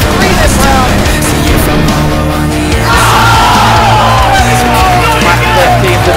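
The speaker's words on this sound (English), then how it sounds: "The crowd behind, cheering NiP on every second of the way." Loud esports arena crowd at DreamHack Winter cheers and roars for NiP, a dense continuous wall of yelling that surges higher midway, with a commentator talking excitedly over it.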